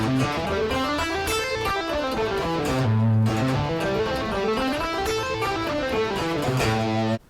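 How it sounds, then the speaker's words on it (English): Electric guitar running up and down a pentatonic scale with smooth, legato hammer-ons and pull-offs, notes flowing steadily and clearly for several seconds. "we're simply just going to play a scale using hammer-ons and pull-offs"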